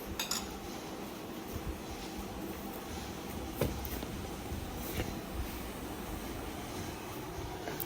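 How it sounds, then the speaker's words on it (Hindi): A spoon stirs honey into a mug of green tea, giving a few faint, sparse clinks against the cup over a soft, steady room hiss. "मैं यहाँ पे हनी ऐड करके अब इसको मिक्स करके, मेरा ग्रीन टी का जो मग है वो रेडी हो गया है"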